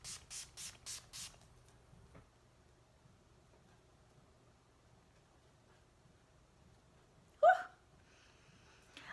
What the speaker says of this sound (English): I'm gonna be using the Urban Decay Deslick. It is my favorite makeup setting spray